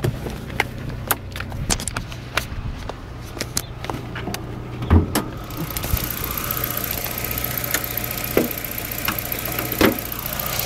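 A car engine with a faulty throttle position sensor idles in neutral, giving a steady low rumble sprinkled with irregular ticks and knocks, heard nearby without voices.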